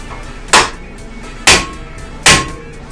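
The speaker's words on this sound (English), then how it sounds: "Hammer time." Three sharp hammer blows on Mercedes brake parts, about a second apart, on an OM606 turbodiesel car, loud and close with no talk.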